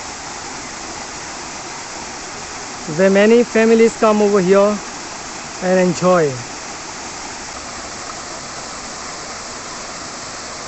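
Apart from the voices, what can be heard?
Verna Spring waterfall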